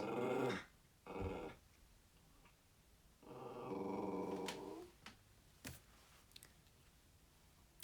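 A dog growls in short bursts, one longer rumbling growl in the middle, with a few faint clicks and quiet gaps between.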